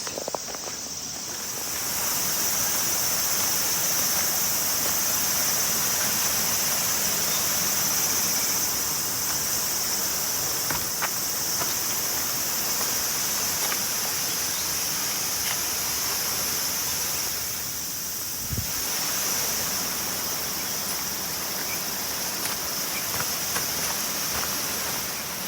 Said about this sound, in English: Cool air coming down this waterfall